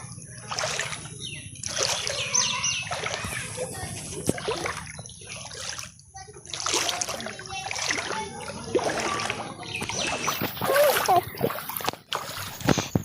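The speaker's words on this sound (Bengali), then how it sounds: "পুরো রাস্তাটাই জলে ডুবে গেছে, রাস্তাটাই পুরো যাচ্ছি জলে।" Feet wading through floodwater covering a village road, with repeated sloshing splashes and trickling water at close range, often under a person's talking.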